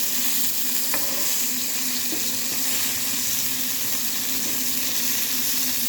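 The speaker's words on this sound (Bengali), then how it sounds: "আর এখানে মাছগুলো আমি ভাজতে দিয়ে দিচ্ছি।" Small fish frying in oil in a pan, a dense, loud, unbroken sizzle with a couple of faint clicks, heard up close with no talk.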